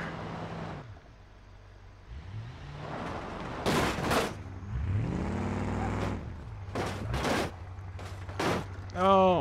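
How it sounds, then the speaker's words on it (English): A pickup truck in the BeamNG.drive video game crashes and loses its bumper: engine revs rise and fall in sweeping tones, broken by several sharp, loud impact bangs, the clearest around the middle and near the end. "Oh, we knocked the bumper off."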